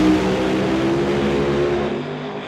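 A West Coast Pro Modified drag racing car roars down the track at full throttle, a loud, sustained engine howl with no talk over it.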